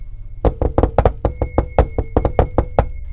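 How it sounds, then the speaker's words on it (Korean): A door is struck by a rapid run of about fifteen sharp, crisp knocks, close and loud, spaced almost evenly at a frantic pace after a brief silent start. "그 사람이 미친 듯한 속도로 문을 두드렸습니다"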